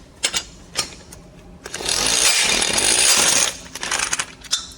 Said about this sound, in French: Alors c'est vraiment une boulonneuse à choc. Elle donne des chocs.